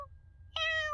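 A young kitten gives one clear, close meow, a rising then falling cry, after a very brief faint chirp and a moment of near-silence.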